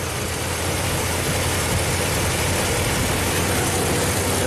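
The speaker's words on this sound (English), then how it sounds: "now our idle is back down" A 1998 Chevy K2500 truck engine idles steadily and loudly close by, a continuous low rumble with no speech over it.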